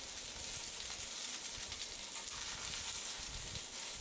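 Yak meatballs fry in a pan with a steady, close sizzle and crackle of hot oil, continuous and even throughout, with no voices.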